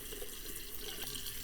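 Hot water runs steadily from a tap into a shower drain, a continuous splashing hiss close by with no voices.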